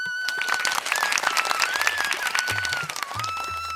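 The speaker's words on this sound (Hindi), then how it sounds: "दरबार में तालियों की गूंज।" Clapping resounds through a royal court, a dense patter of many hands mixed with a sustained tonal line and low thuds partway through.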